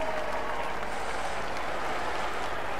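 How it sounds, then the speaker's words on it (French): Steady applause from a roadside crowd at a Tour de France time trial, dense continuous clapping throughout at moderate loudness, with no pauses. "Allez, on l'applaudit bien fort."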